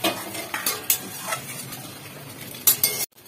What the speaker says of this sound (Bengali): মশলাটাকে ভালো করে নাড়াচাড়া করে এবার নামিয়ে নেব